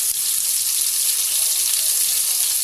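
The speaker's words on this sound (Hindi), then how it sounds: "सबको हम पलट के चारों तरफ से अच्छे से हम इसको फ्राई होने देंगे" Seekh kebabs fry in a pan with a steady, dense sizzle throughout, close and uninterrupted, with no voices.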